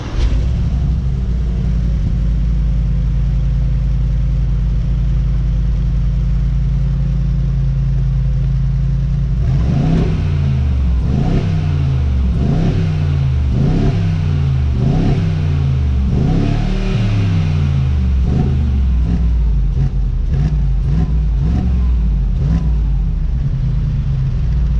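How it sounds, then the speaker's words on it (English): A Brabus G63 Mercedes G-wagon engine starts and idles with a steady low rumble, then revs repeatedly in a series of rising and falling roars, loud and close. "let's actually start this car so that you guys can hear it."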